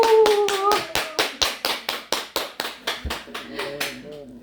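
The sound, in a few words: applause and cheering from audience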